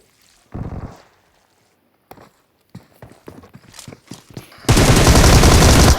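Video game gunfire comes as a burst of shots, then scattered single reports and bursts, and ends in a long, loud, sustained rattle of automatic fire.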